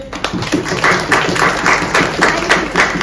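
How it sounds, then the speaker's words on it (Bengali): Applause breaks out on a TV serial set, a short burst of clapping from a group, close and lively, with brief talk mixed in. "সবার হাততালি।"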